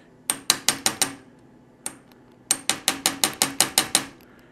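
Copper drift tapping workpieces down onto parallels held in a machinist's vise for a stainless steel guide frame: sharp metallic knocks, a quick run of five, a lone tap, then a steady series of about nine close, ringing strikes.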